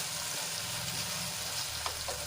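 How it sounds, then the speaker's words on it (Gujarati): Eggplant and cowpea beans sauté in a pan, a soft continuous sizzle and crackle of frying with faint stirring scrapes, close and steady without talk. "તો આપણા રીંગણા અને ચોળી થોડુંક સંતળાઈ ગયું છે"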